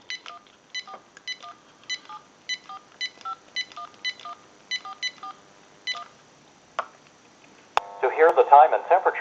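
A quick series of touch-tone beeps on a General Electric 27909 cordless telephone dials a number, evenly paced, followed by a click and the start of a recorded voice.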